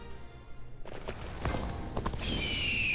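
Galloping horse hooves during mounted riding in Dynasty Warriors Origins, a quick rhythmic clatter rising from quiet to steady and close, with game effects layered on top.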